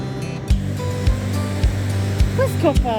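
Sea surf on a Highlands beach rushes in repeated, evenly spaced swells under steady wind, with voices and a few high squeaky calls near the end.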